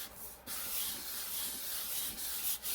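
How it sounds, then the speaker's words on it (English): Sanding junk journal paper materials by hand, a steady rough scratchy rubbing that starts after a short pause and runs on continuously, close up and alone with no talking. "let me do a little sanding"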